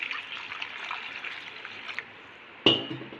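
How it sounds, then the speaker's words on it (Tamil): Water pours into a pan of prawn gravy as a soft, steady splashing hiss for about two seconds, followed by a brief quiet gap and a sharp metallic clank. "இப்போ நான் தண்ணி சேர்க்குறேன்."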